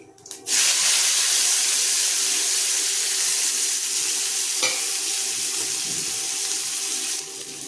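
Steady sizzling of garlic and onions sautéing in hot oil, loud and continuous, with a brief stir or clink partway through.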